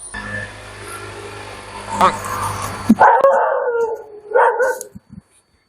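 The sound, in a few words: dog howling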